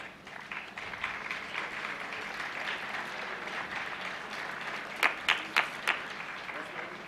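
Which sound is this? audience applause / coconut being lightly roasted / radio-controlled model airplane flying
audience applause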